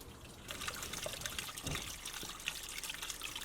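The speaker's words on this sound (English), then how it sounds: "listen to the music of the waterfall" Water runs over the rocked-in spillway of a newly built garden pond waterfall, a soft, close, steady trickle and splash with small bright droplets.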